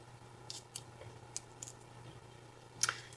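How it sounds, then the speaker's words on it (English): Scissors trim paper for a flower layout, giving several faint, crisp snips spaced irregularly over a low steady hum, with one sharper cut near the end. "I'm just going to simply trim it a little smaller."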